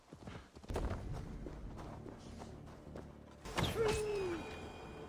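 Hooves of a mechanical horse in Assassin's Creed Valhalla clip-clop steadily in a walking rhythm, close and moderately loud, with a brief whinny-like tone near the end and no talking.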